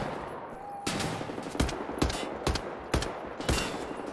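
Gunfire in Wolfenstein: The New Order: about six sharp, loud shots spaced roughly half a second apart over a low game background.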